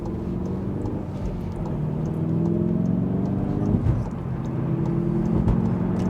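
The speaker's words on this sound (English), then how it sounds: "Right, I'm gonna have to accelerate." SEAT Ibiza Cupra engine droning inside the cabin on a long road drive, its pitch rising steadily as the car speeds up, loud and continuous.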